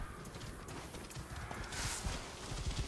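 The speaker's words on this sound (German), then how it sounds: "wir rufen dann mal eben unser Pferdchen." A horse in the Assassin's Creed Origins video game trots in when called, its hooves clip-clopping in a quick, steady rhythm that grows closer, with a short snort or whinny partway through and no talk over it.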